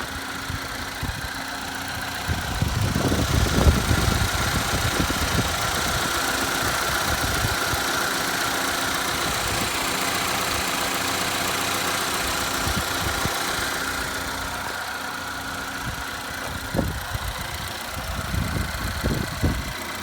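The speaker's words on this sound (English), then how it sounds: "This is a 2013 Chevy Equinox with a 4-cylinder" A 2013 Chevy Equinox 4-cylinder Ecotec engine idles with a steady mid-pitched hum and faint knocking clatter, with a few louder bumps and handling noises near the start and end.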